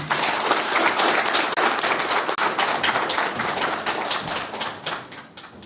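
A seated audience at a road safety capacity-building event gives steady, sustained clapping to welcome a police director general as keynote speaker, gradually thinning toward the end.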